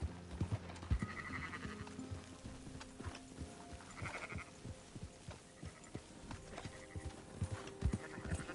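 Horse hooves clip-clop in a steady trotting rhythm while riding in the open-world game Red Dead Redemption 2, soft and moderately close with faint tack jingles and ambient background.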